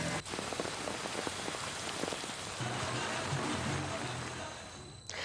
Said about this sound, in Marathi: अलिबागसह माणगाव, महाड, पनवेल, पेण, रोहा, कर्जत या भागांमध्ये पावसाच्या सरी कोसळल्या